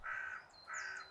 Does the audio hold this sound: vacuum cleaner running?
no